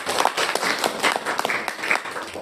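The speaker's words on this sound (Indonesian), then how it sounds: "beri tepuk tangan buat Tuhan Yesus" Congregation clapping and applauding at a church gathering, a short burst of scattered, fairly close hand claps with some voices mixed in.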